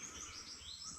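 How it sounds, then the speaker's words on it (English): Small birds chirp and tweet with high, sliding calls in the morning over a soft background hum, faint and somewhat distant. "it's time for the birds to start calling. I'm hearing quite a few birds"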